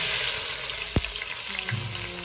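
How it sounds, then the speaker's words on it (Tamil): Chopped onions hit hot ghee and coconut oil, a loud steady sizzle with a sharp burst near the start and a stirring scrape later, close and continuous while mutton biryani is cooked. "வெட்டி வச்ச ஆனியன் மொத்தமாக போட்டுடலாம்."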